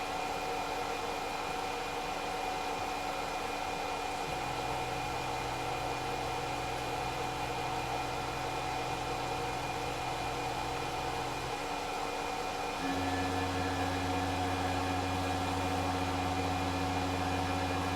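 A Tormach PCNC 1100 CNC mill makes rough and finish test cuts, giving a continuous mechanical drone with steady whining tones that shift in pitch partway through, under a constant airy hiss, with no one speaking.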